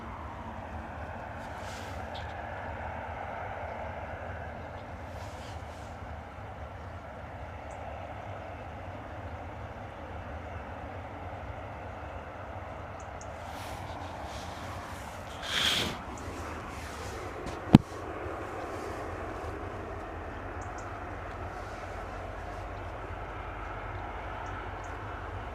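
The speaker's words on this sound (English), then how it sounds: "So hoping you guys can hear that spool up of the 777" Boeing 777 jet engines spool up at London Stansted Airport, a steady distant roar that stays fairly even and low in level, with a couple of brief sharper bumps near the end.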